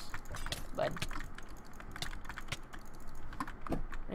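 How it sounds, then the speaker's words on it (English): Rapid clicking of computer keyboard keys, irregular bursts of typing close to the microphone, fairly quiet, with no talking. "My keyboard is probably so loud right now."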